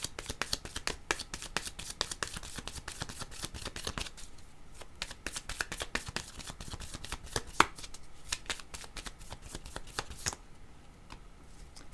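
Playing cards are shuffled and drawn in a rapid run of crisp riffling snaps, near and loud, with a brief pause partway through and no talk.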